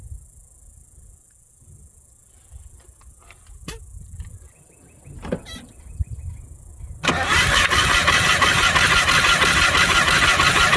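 A Chevrolet Silverado engine cranks loudly and continuously during a cylinder compression test, starting abruptly after several seconds of quiet clicks and faint crickets, a steady rapid churning that holds to the end.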